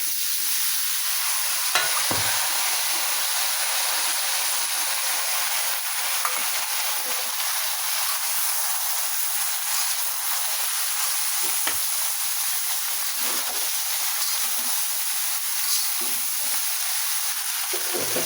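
Chickpeas, green chilies and vegetables sizzle steadily in a hot pan, a constant close frying hiss broken by occasional scraping stirs, with no voices.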